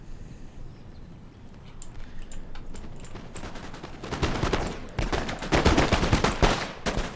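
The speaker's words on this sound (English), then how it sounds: "Look at that, already getting the shots off" Musket volleys in a Napoleon Total War battle, Russian and Ottoman lines trading fire: scattered cracks at first, growing into dense, overlapping rolling volleys that get louder and closer toward the end.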